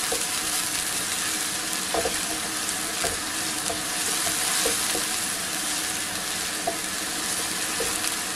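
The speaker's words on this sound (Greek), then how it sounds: "Περιμένουμε να σοταριστούν καλά." Food sizzles in a hot pan as it is sautéed, a loud continuous frying hiss close up with occasional scrapes and taps from stirring.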